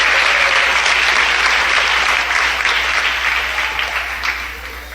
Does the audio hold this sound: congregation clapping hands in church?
yes